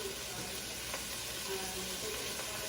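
Pieces of beef steak sear in oil in a pan for a beef stew. A constant dense sizzle crackles close by with no pauses over a few seconds.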